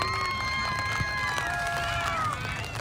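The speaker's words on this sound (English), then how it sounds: "Parents giving a little bit of cheer right here." Parents cheering from the sidelines at a 2013 boys youth soccer championship between Etown FC and FC Pride, a steady outdoor crowd roar with whistles and shouts running continuously, moderately loud throughout.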